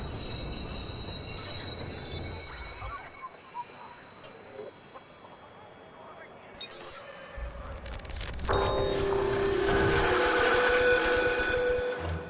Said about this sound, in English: Bound train arriving shortly.